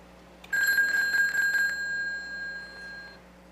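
A payphone rings during a wiring test after being called from another line, with a single loud electronic ring lasting about a second and then a fading tonal tail, heard alone.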